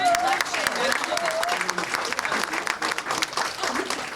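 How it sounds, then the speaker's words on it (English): Audience at an NAACP women's awards ceremony applauding an honoree, a dense, loud wash of many hands clapping continuously for several seconds, with some voices and cheers underneath. "Let's give her a round of applause."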